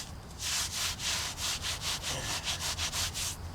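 Patching compound is rubbed into holes in a foundation wall, a close, rhythmic scraping and rubbing with about a dozen quick back-and-forth strokes and no voices.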